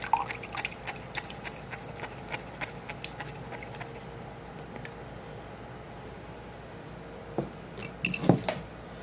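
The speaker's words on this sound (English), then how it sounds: "Then we're going to squeeze out the juice." Half a lemon squeezed by hand for juice, soft wet squishes and drips with scattered small clicks, fairly faint and close, and a louder burst of wet squeezing near the end, with no talking.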